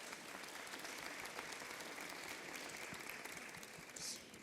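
An audience at a French round-table discussion on information and disinformation applauds steadily for several seconds, a dense, even wash of clapping with no talk over it.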